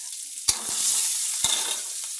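Chopped green chilies and onion fry in a pan with a loud, steady sizzle, broken by a couple of sharp knocks as a utensil stirs the pan, close up.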